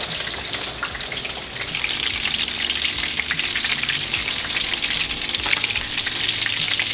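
Whole panfish fry in hot oil, giving a loud, steady crackling sizzle with dense popping and bubbling that continues throughout without any talk.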